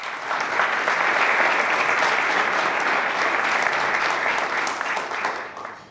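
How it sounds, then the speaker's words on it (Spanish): An audience at a Kubernetes tech talk applauds steadily for about six seconds, a dense wash of clapping hands that stays even before tapering slightly at the end. "Un aplauso."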